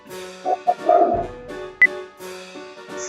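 A dog barks and yips in several short, close bursts, with a higher whine between them, in a home where another dog is also present.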